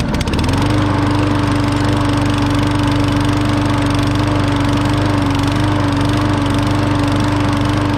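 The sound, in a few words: Murray lawn mower engine running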